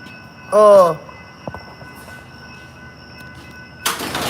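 A passing train sounds one short, loud horn blast, heard from inside a vehicle over a steady low hum, followed by a faint thump and later a burst of rushing noise.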